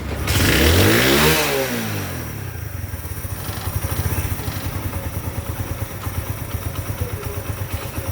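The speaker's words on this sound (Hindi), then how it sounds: "अब हम इसको स्टार्ट मारेंगे और स्टार्ट मार के हम ये चेक कर लेंगे कि हमने जो कुछ भी इसमें किया क्या रिजल्ट।" A tuned 70cc motorcycle engine starts with a rising rev, then settles into a steady, close idle with rhythmic firing and a few mild blips of throttle.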